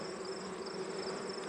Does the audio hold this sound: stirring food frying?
no